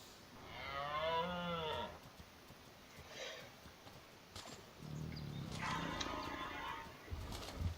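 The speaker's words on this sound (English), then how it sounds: "Also known as a hell pig, because, well, I mean, look at the size of this thing." Low, bellowing creature calls from a Daeodon, the huge hell pig of the game Ark, two drawn-out groaning grunts separated by quieter ambient game noise, close and fairly loud.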